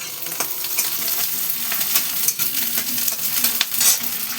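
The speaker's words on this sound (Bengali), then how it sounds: "এবার আমি তেলের মধ্যে এই যে পেঁয়াজ আর লঙ্কা কুচানো দিয়ে দিলাম।" Large cubes of onion and chopped chilli fry in hot oil for prawn and egg chow: a loud, continuous close-up sizzle with crackling spits and occasional stirring scrapes in the pan.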